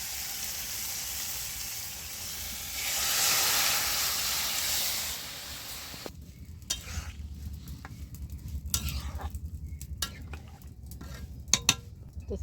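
Boiled lentils tipped into a pan of cooked-down tomato: a steady loud sizzle and hiss for the first six seconds, then softer bubbling with scattered clinks of a spoon against the pan.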